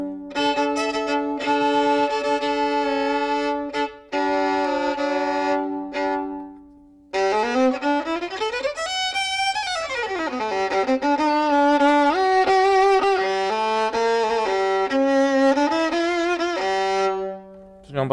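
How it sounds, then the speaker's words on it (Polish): Custom violin strung with 14-karat gold wires, played solo as a flowing melody with sustained bowed notes, a brief pause near the start and a rising-falling run mid-passage. "Brzmią jak skrzypce. Jak normalne skrzypce."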